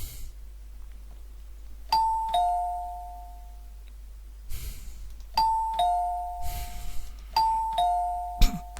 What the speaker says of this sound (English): Somebody's very insistent with that doorbell.